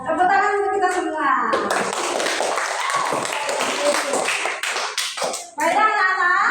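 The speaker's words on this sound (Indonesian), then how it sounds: "Tepuk tangan untuk kita semua." Children in a classroom clap their hands together, a close, busy burst of mixed claps between stretches of voices, with a teacher's speech at the start and end.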